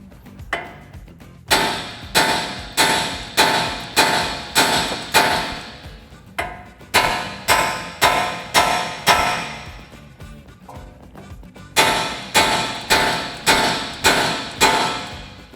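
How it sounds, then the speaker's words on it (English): Steel hammer striking a 2005–2023 Toyota Tacoma front spindle to pop the ball joint loose, heard as three close bursts of sharp, ringing metallic blows, about six or seven rapid hits each, loud and with no talking. "Now we'll come in with our hammer, give it a couple taps until our ball joint pops and our spindle drops down."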